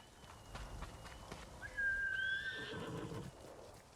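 Horse neighing in the video game Ghost of Tsushima: a single clear, rising whinny rings out mid-clip over soft ambient game noise and faint hoof sounds.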